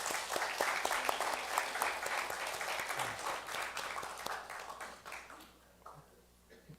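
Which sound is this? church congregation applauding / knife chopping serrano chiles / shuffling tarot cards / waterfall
church congregation applauding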